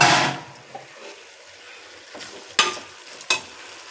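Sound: vegetables sautéing in a pan

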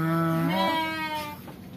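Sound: Garut sheep bleating

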